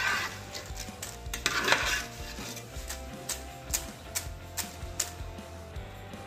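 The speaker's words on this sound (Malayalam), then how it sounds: "ഇതിപ്പോൾ നമുക്ക് കോരി മാറ്റാം, വേറൊരു പാത്രത്തിലേക്ക് മാറ്റി വെക്കാം." Fried banana chips scooped out of a pan of hot oil and tipped into another vessel, with close metallic scraping, clinks of a ladle against the pan and a faint sizzle underneath.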